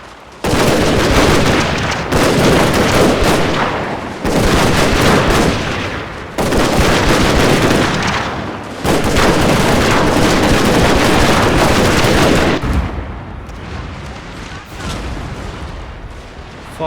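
Artillery fire in Fall of the Samurai during the Battle of Hakodate, with heavy booming volleys in long loud blocks separated by short gaps, then fading to a quieter rumble near the end.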